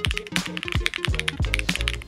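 A Promise mechanical keyboard with standard Poron plate foam, typed on in a quick, uneven run of crisp clacks and thocky keystrokes, close and clear with no voices.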